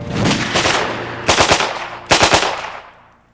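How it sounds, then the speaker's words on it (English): A Soviet PPS-43 submachine gun, a stamped-metal wartime design, fires close and loud in sustained automatic bursts: one long initial run, then two shorter rapid bursts, with the report ringing out and fading at the end. "This is the PPS-43 pistol Pulyamet Sudarev, designed by an engineer named Sudarev during the siege of Leningrad and built mostly from stamped parts"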